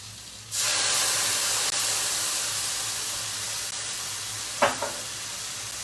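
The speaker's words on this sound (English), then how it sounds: "I'm going to do a quick little deglaze in that pan." Bourguignon wine poured into a hot pan bursts into a loud, steady sizzle and hiss that runs nearly the whole time, with a sharp clink of a utensil near the end.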